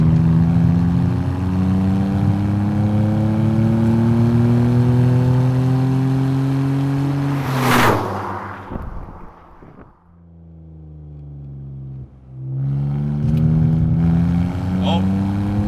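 A BMW E46 330Ci's naturally aspirated inline six revs hard, its rising engine note loud and close, then drops off sharply as the throttle lifts before climbing again with a gear change.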